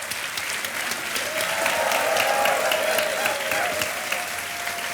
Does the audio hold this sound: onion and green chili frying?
no